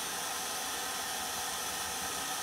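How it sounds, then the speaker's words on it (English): A blow dryer drying paint on a hand-painted Christmas yard sign gives a steady, loud, close rushing hiss with no change in level, running alone throughout. "let me hit this with a blow dryer just real quick"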